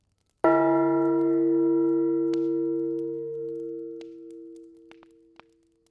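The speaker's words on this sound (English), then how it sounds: "He spoke before the hour bell sounded, which it did now with a deep, dull, hollow melancholy." A single deep, hollow hour bell strikes once, its rich tone ringing out loud and slowly fading over several seconds, with a few faint ticks and clicks in the quiet afterward.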